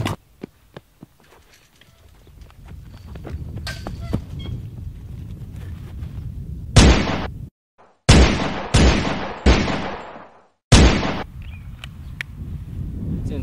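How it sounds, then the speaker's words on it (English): Several sharp, loud gunshots ring out near the microphone in a tense police confrontation. A single shot is followed by a quick burst of about four more and then one last shot, over a low murmur of background noise. "Shots fired, shots fired."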